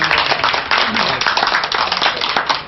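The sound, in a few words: audience clapping hands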